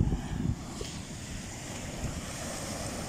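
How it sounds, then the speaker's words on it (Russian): Rough sea surf breaks on a white-sand beach in a bay in Primorsky Krai, a broad continuous wash of waves with wind buffeting the microphone. "Сегодня море очень неспокойное."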